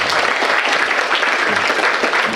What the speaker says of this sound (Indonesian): Boleh minta tepuk tangan teman-teman.